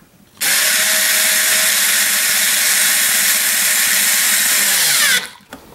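A power tool whirs continuously at close range for about five seconds, tightening the mounting screws of a ceiling fan, then stops abruptly.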